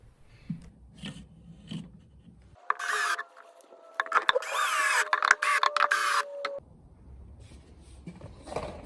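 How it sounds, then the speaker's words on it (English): New drawer runners are screwed into MDF furniture, a few quiet handling taps, then a cordless drill whirring in bursts with ratcheting clicks for several seconds before falling quiet. "I'm just going to screw these in a little bit further back than the old runners"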